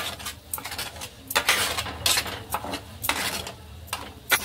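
Spoon stirring masala into butter and gravy in a pan for homemade butter chicken, with repeated metallic scrapes and clinks at an irregular rhythm, close and moderately loud, no talking.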